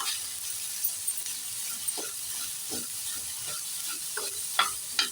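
Horse gram chutney ingredients with tamarind and salt fry in a pan, a faint steady sizzle with intermittent spoon-stirring scrapes and taps close by.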